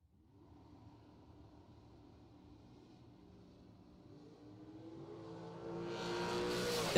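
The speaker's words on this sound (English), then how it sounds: "Gonna be taking on Quade Dosher in his dragster entry" A dragster launching off the throttle stop at a drag strip, its engine building from a distant low rumble into a rising, louder roar as it approaches.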